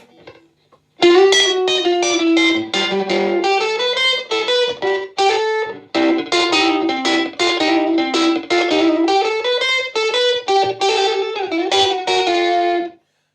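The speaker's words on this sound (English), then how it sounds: "Echo pedal on the neck." A 1974 silverface Fender Champ amp carrying an electric guitar on the neck pickup through an echo pedal: a long, continuous stream of picked notes and chords with repeating echoes, loud and close, with short pauses and no talking.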